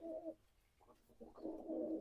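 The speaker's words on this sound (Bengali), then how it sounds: "এই কবুতরগুলা কিছুদিনের মধ্যে ডিম দেবে দেশি কবুতর" Native domestic pigeons coo close by in soft, throaty rolling bursts, one short phrase followed by a longer, louder one, with no talk over them.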